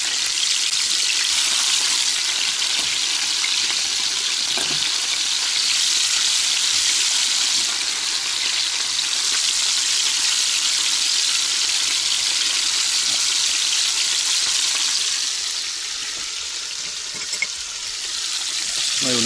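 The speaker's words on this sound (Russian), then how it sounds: "Жарить буду без муки." Loud, steady hiss and crackle of fish pieces frying without flour in oil in a hot pan, continuous for the whole stretch, easing slightly near the end.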